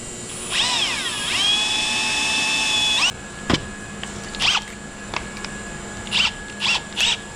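A small drill bit bores into a metal bar on a Can-Am Maverick X3 four-door, giving a loud high whine for about three seconds, then a string of short drill bursts and clicks.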